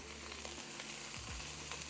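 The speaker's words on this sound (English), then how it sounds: "we're gonna lay the chicken strips, seasoning side down into the wok." Steady sizzling of chicken strips frying in a hot wok, a bright crackling hiss that fills the clip with a low rumble beneath.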